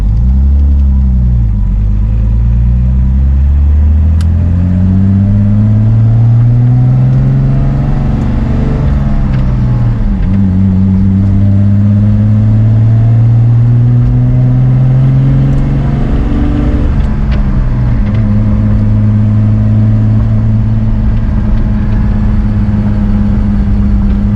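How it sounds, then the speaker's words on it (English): A cold car engine idles at a high, steady speed, its low hum wavering slightly in pitch, close and continuous with no voices. "it's still a little bit cold. That's why it's high idling still"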